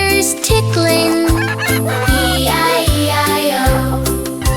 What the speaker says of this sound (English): On his farm he had a chicken